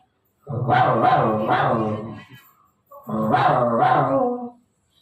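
A voice imitates a big dog's deep barking, two long gruff bursts separated by a short pause, close and loud.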